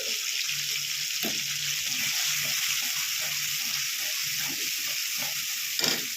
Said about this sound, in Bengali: এবার আমি এখানে জল দিয়ে